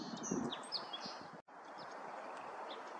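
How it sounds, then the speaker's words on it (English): Black phoebe calling at a lake in rainy March weather, a few short high chirps standing out over a steady wash of rain and background noise, with faint further calls later. "Black phoebe,"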